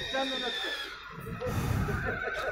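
A horse whinnies close by with a high, shaky call, while people talk nearby in the background.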